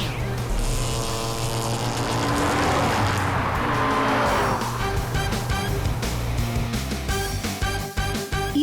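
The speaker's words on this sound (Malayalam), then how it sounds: "ഇത് തണ്ടർ ബോൾട്ട് കാറാണ്, മാത്രമല്ല ഇത് മിന്നൽ വേഗത്തിൽ ഓടുന്നതുമാണ്." The cartoon Thunderbolt car races at lightning speed, a loud whining engine roar with rising pitch sweeps and skids, then sharp rapid clicks and zaps near the end, with no talking.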